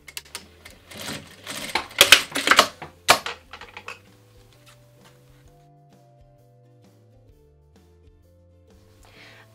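A sewing machine stitches fabric with a 0.5 cm seam allowance for a small flat zippered pouch, a fast rattling burst of stitches for a few seconds that then stops, leaving near quiet with faint handling.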